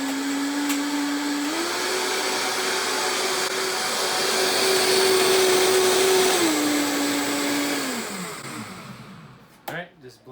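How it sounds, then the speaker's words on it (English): A countertop blender whirs steadily through a batch of bulletproof coffee, a loud continuous motor drone that rises in pitch midway, then winds down and stops, followed by a couple of faint clunks. "Just blend it for a few seconds, just like that, and you are ready to go."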